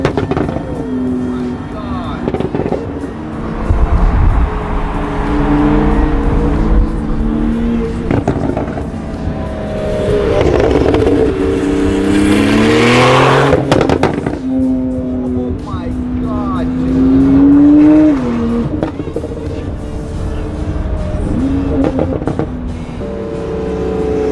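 A straight-piped, tuned turbo Pagani Zonda Tricolore revs hard at a car show, loud rising and falling engine pitch sweeps with crackles, with people talking over and between the revs.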